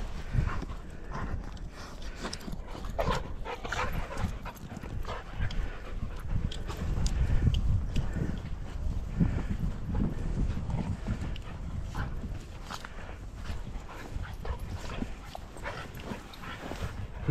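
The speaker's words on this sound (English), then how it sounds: "that snorting sort of noise tells me that both dogs are playing" Two dogs, one a young German Shorthaired Pointer, play together outdoors with rough snorting, huffing and scuffling sounds, a busy, continuous close-up commotion without talk.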